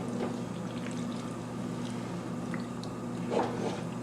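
Water poured into a pot of green chile stew over beef base and bouillon, a soft continuous pouring and gurgling wash that swells briefly near the end, no talking.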